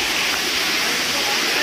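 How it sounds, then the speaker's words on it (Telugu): Water pours steadily at Palakonda waterfall in Kadapa, a loud, even, close rush of flowing water with no other sounds. "నీళ్ళు అక్కడి వరకు పారుతూ ఉంటాయి."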